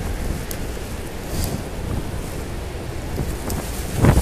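Strong wind buffets the microphone aboard a cruise boat nearing Horseshoe Falls at Niagara, a constant low roar with gusty swells and a hiss of water spray.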